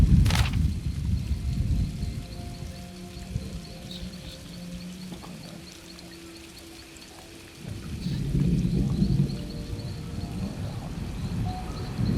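Thunderstorm in Elder Scrolls Online, with a sharp thunder crack at the start followed by steady rain and rumbling swells. A second roll of thunder builds later, with faint game tones running underneath.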